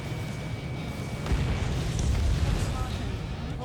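A missile explosion destroying a target in the jet combat game Ace Combat 7, heard as a dense, rumbling low boom that swells midway and holds steady under continuous noise.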